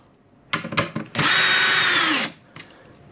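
A power drill drives screws into a variable-pitch propeller assembly: a few short trigger bursts, then one sustained whirring run of about a second that winds down, close and loud.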